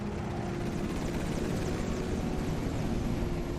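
Rotor thump of a military helicopter among aircraft returning from a training exercise to base, a steady, continuous drone throughout with no talk.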